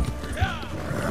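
Horse in Red Dead Redemption 2 Online during a bounty-hunter chase: clip-clop hooves and a brief whinny-like call heard under speech and game noise, over about a second.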